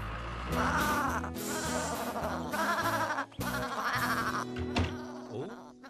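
Cartoon sheep on a building-site farm bleat over and over, loud and wavering, in a close, busy run of overlapping calls that rarely pauses.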